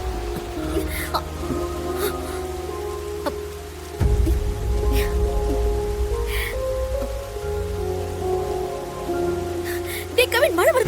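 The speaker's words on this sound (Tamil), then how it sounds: "மழை வருது, சொல்லுடா" Rain falls steadily through an outdoor drama scene, a broad wash of patter that swells louder about four seconds in, with some background music tones alongside.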